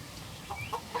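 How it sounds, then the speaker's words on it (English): Chickens and chicks make a few soft clucks and chirps in a pen, brief and fairly quiet against a low background. "little chickies."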